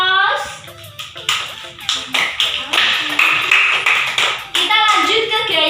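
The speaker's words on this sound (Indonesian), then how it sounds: "Beri aplaus." Classroom applause from a group of schoolchildren, several seconds of dense, bright clapping close by, with children's voices mixed in.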